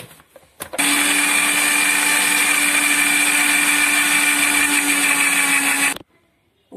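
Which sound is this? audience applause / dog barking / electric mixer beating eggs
electric mixer beating eggs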